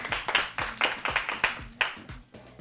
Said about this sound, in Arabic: صفقوا لها صفقة كبيرة